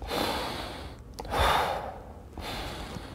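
Demonstration of shallow chest breathing: a few quick, breathy inhales and exhales, close and fairly loud, with one stronger gasp-like breath in the middle and no speech.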